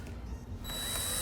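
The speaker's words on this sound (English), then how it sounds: "Going in with my drill" A power drill with a 4-inch bit whirs up to a steady high-pitched whine as it bites into composite material on a Corvette C8 Stingray, close and fairly quiet.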